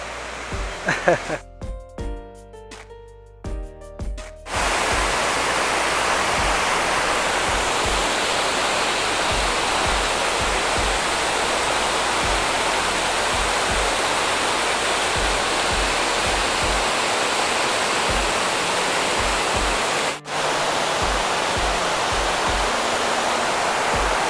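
After a few seconds of voice and tonal sound, the loud, steady roar of Mae Klang waterfall in Chiang Mai, Thailand takes over and rushes on continuously to the end.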